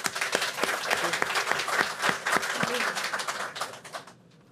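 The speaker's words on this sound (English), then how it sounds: "Let's give him a round of applause, too." Audience applause at a school board meeting, with many hands clapping and a few sharp, distinct claps standing out, steady for about four seconds before dying away to quiet.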